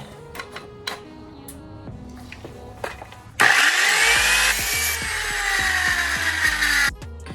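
Power saw cutting an angled piece of wood for a DIY racing sim rig, starting abruptly after quieter workshop clatter and whining loudly and steadily for about three and a half seconds before stopping.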